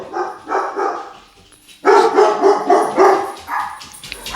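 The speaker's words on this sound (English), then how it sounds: "My pooch is going crazy. Somebody's right outside." A pet dog barks in loud, repeated bursts at someone outside, with a short lull before a second, louder run of barking; no one speaks.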